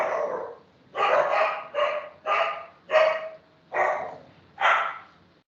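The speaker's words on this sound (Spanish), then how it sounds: "están sacando los perros y se alborotan" Dogs being let out barking excitedly, seven loud close barks in an uneven rhythm with short pauses between, no talk over them.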